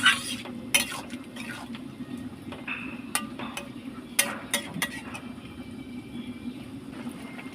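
Bottle gourd curry being stirred with salt in a pot, with sharp irregular clinks and scrapes of a spoon against the metal over a low simmering sizzle.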